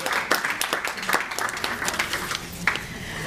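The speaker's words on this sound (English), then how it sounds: "let's give her a round of applause" Audience applause at a disabilities conference opening session in Jamaica, steady moderate clapping from a hall crowd with scattered sharper claps throughout.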